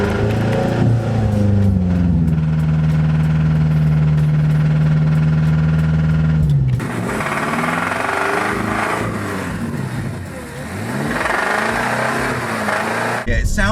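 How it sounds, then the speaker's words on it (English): A BMW F10 M5 V8 with a knocking bottom end idles roughly for several seconds, then revs up and falls back in rising and falling sweeps, loud and close. "it turned out the bottom end of that engine was knocking. I'll try and show you a clip of what it sounded like now."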